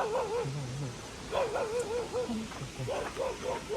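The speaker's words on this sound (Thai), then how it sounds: "หมาเห่า" A dog near a streamside dwelling gives a run of short, whining yips and barks in uneven bursts, heard at moderate distance with no talk.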